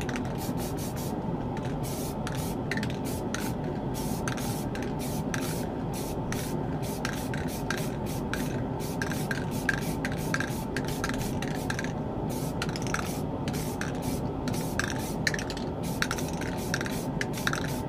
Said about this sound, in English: I have a very fine spray nozzle on here because I don't like a lot of paint going on at once.